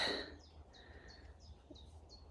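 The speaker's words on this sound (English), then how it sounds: "I'm wondering what these birds are that I can hear." Birds chirp in short repeated high calls, fairly faint and distant, over a quiet outdoor background.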